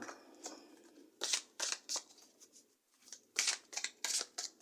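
Tarot cards are shuffled in bursts of riffling, crisp papery flutters in several short clusters with a brief pause midway, close but soft, with no talk.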